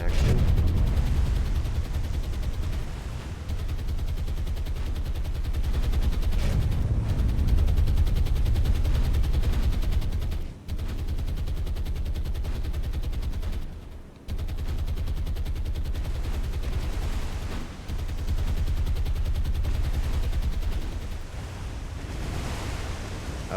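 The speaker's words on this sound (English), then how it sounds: "See if we can get all the guns in action." Warship guns blaze in the naval combat game War on the Sea, set in a Murmansk scenario. Sustained, loud, rumbling volleys of gunfire roll on almost continuously, broken by a few short gaps.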